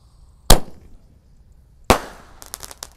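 Special firecrackers lit outdoors to welcome Ramadan, the "sonic boom" type: two sharp, loud bangs about a second and a half apart, the second trailed by a quick rattle of smaller crackling pops.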